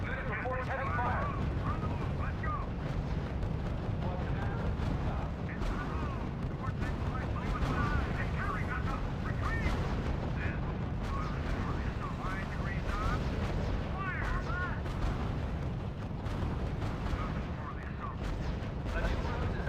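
Heavy gunfire and artillery rumble nonstop through a battle in the video game R.U.S.E., a dense, loud wash of shots and explosions with game voices speaking over the din.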